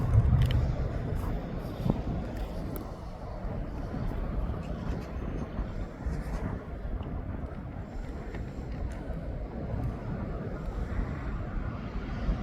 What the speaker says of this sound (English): And there goes that Jet2 down to Tenerife.